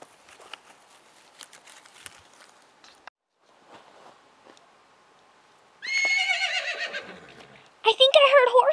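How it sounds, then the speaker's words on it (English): Loud, close horse whinnies from a Schleich toy-horse animated film: a long neigh followed by a second, sharper call, after a stretch of quiet shuffling and soft background sounds. "It sounded like a little horse or something."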